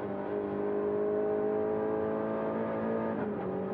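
Group A race car at the 1986 Bathurst 1000 in Australia, its engine droning steadily under load as the gearbox crunches through a shift, heard close up from inside or beside the car.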